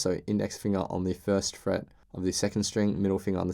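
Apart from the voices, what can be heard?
No everyday noise stands out behind the speech.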